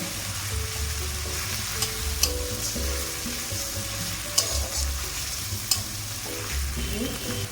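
Ginger paste and spices frying in a pan for chana masala, a continuous close sizzle with occasional clicks and scrapes of a spoon stirring, no one speaking.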